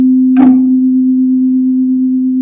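Two steady pure tones of slightly different pitch sound together in a physics interference demo, producing a continuous loud hum with slow wah-like swells in volume, and a brief thump near the start.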